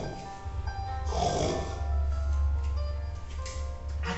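A voice imitates a hungry wolf snoring very loudly, a few long, rough, drawn-out snores running continuously at close range with no other talk.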